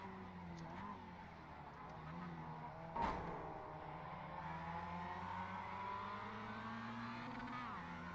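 A Mazda MX-5 Cup race car in iRacing at Tsukuba, a faint steady engine drone with a brief sharp crash-like burst partway through, as another car runs close behind.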